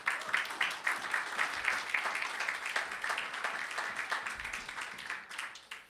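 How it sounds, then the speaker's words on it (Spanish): A church congregation applauds during a sermon with a dense, steady patter of many hands that holds for several seconds and then gradually thins and fades. "Apláudale si le va a aplaudir."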